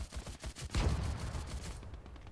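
Mortar fire in the game MACE comes as a faint, distant volley of rapid thumping bursts, several overlapping blasts in a short cluster that fades out toward the end.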